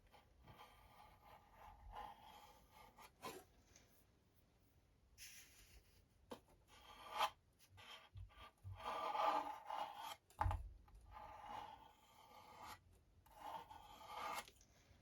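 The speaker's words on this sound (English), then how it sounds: "I'm just going to go over now and just scrape as much off of the sides of that as I can" A filed-down coffee stir stick scrapes excess filler off an interior house wall, giving intermittent close, rasping strokes that grow louder and more frequent partway through.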